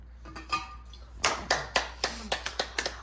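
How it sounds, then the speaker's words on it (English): A small audience claps after a class presentation: a few soft taps at first, then about ten distinct, sharp claps in an uneven rhythm from only a handful of people. "Audience is clapping."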